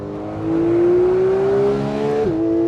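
A Ferrari sports car engine revs hard to 9,000 RPM on a road test, its rising whine climbing smoothly and loudly before a sharp dip and settle, heard close with no talk.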